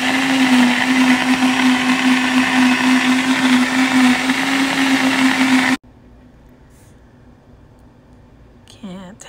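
A blender whirs loudly and steadily while mixing a green smoothie, then cuts off abruptly, leaving a quiet room and a brief voice at the end.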